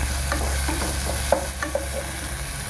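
Green chillies and onion frying in a pan for raw banana rava upma, with a steady low sizzle and several soft scraping stirs of a spatula, close and with no voices.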